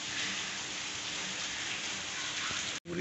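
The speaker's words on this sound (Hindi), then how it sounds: "देख रहे हैं आप बारिश कितनी तेज है" Heavy rain pours steadily at a house in Siwan, Bihar, a dense, even hiss that fills the whole stretch. It cuts out only for a moment near the end.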